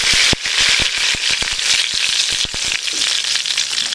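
Dried red chillies, broken into pieces, crackle and sizzle with curry leaves in hot oil for a jackfruit thoran, a dense hiss broken by sharp popping bursts throughout.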